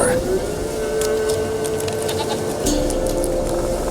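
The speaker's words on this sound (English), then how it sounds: "Here, goat." A goat bleats in the video game The Witcher 3, a wavering cry over a busy game soundtrack and ambience, with a voice speaking.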